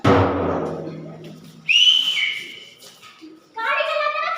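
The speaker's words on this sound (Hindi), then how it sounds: "गाड़ी चलाते वक्त लड़की को देख के सीटी बजाते हो" At an outdoor nukkad natak street play in Mandawali, East Delhi, a man whistles at a girl. A voice speaks first, then come two loud whistles, one sliding up and then down, the second a shorter, bright tone.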